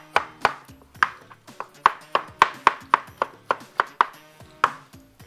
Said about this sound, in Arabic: بعد كده عندي طماطم هقطعها برده شرايح